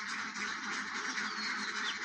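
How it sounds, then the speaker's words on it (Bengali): Farm ducks restless before being let out quack continuously in an overlapping, close chorus, fairly faint overall. "হাঁসগুলো বাইর হওয়ার জন্য ছটফট শুরু করে দিছে, আর ডাকাডাকি মনে করেন যে চলতেই আছে।"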